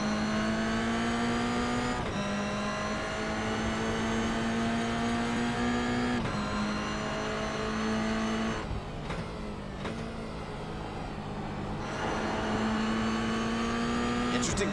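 Toyota GR86 Cup race cars lapping Sebring in the iRacing simulator: a steady, loud engine drone holds under throttle, broken by a few gear shifts and brief dips in revs.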